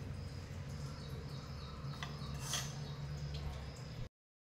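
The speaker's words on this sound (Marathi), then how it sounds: "जिरे मोहरी तडतडली आहे।" Cumin and mustard seeds crackle and pop in two spoons of hot oil in a kadhai, a faint, steady sizzle broken by small irregular ticks, with one brighter burst near the middle.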